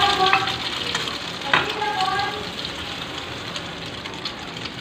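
French toast fries in a hot pan, giving a close, continuous sizzle with a few light clinks and scrapes early on, then a steady hiss that fades slightly toward the end, with no voices.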